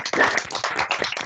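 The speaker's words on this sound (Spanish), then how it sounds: "abran su micrófono para brindarle un aplauso al maestro por su exposición" Online audience applause after a lecturer's talk on legal anthropology, a brief patter of several people clapping over microphones, uneven and moderately loud for about a second.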